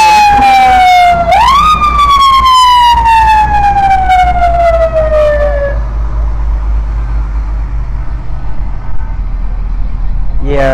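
Fire engine sirens from the Fairgrounds Fire Department wail loud and close at a Christmas parade, the tone swooping up then gliding slowly down before fading into crowd and engine rumble.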